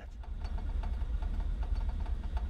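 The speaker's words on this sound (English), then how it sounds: "I'm going to pull this to idle, see if the engine dies." The radial engine of a DHC-2 Beaver floatplane idling in Microsoft Flight Simulator: a low, rough, pulsing rumble with a regular uneven beat, steady and close throughout, with no talk.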